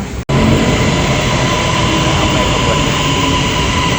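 An electric train arriving at a station rumbles loudly and steadily with a broad roar and faint tonal whine, heard close, after a brief dropout at the start.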